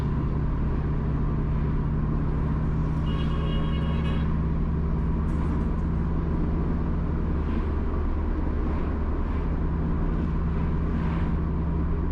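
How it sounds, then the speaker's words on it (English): A car drives east from Salem and Runaway Bay toward Prairie in St Ann, Jamaica. A steady, fairly loud road and engine rumble holds throughout, with a brief faint tone near the start. "Currently, we are driving east from Salem and Runaway Bay towards Prairie."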